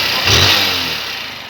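A Honda Fan 160 motorcycle engine runs loud and close, revving briefly near the start and then settling back toward a steady idle, with no voices.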